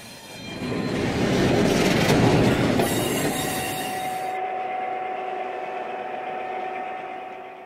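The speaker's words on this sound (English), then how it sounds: "The train has finally reached Fox Creek, the end of the line for the little short line." A 1:29 scale model train rolls along a layout, its wheels clattering and squealing loudly as it passes close by, then fading to a steadier lower rumble with a lingering squeal.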